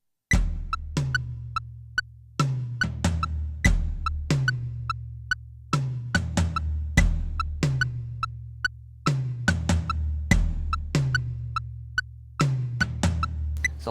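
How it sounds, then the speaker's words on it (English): Drum toms thud in a syncopated offbeat rhythm from a drum breakdown, each low hit decaying under a steady, sharp click track ticking throughout, with no talking. "so the tom rhythm sounds like this with the click track."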